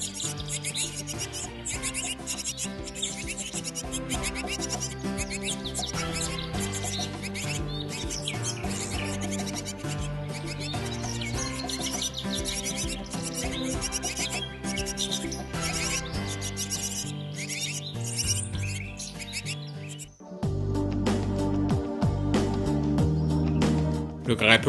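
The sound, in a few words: nestling birds begging loudly for food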